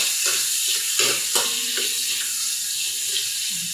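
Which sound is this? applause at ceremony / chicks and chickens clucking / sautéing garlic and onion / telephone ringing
sautéing garlic and onion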